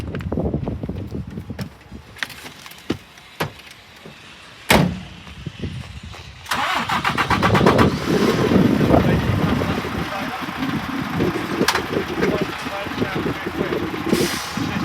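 An articulated truck reverses under its trailer, its diesel engine rumbling steadily close by after a few sharp knocks and a loud hiss of air.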